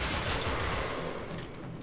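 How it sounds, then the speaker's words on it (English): Akstiletto pistols from Warframe fire in a dense, sustained stream of rapid shots, loud and close, with no talking. "tapping this thing is rather enjoyable"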